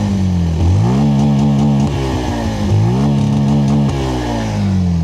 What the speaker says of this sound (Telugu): ఒకసారి ఎగ్జాస్ట్ సౌండ్ వినండి